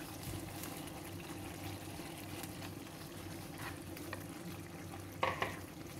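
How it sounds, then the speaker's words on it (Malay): Fried potatoes stirred into a pan of spicy sardine sambal with hot oil, a steady soft sizzle and faint scraping of the spoon throughout, with a couple of brighter clinks near the end. "Bolehlah dikacau-kacau sehingga sebati"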